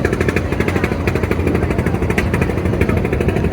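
Engine of the M Khan 7 passenger launch, a large river vessel carrying passengers to Dhaka, running in a steady, loud, continuous drone with a regular throbbing pulse throughout.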